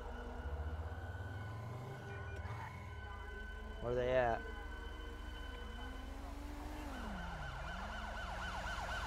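A wailing fire truck siren in the video game GTA V sweeps up and down under engine rumble, with a brief voice speaking over a short warbling burst midway.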